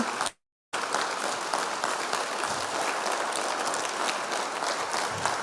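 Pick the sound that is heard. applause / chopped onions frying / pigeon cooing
applause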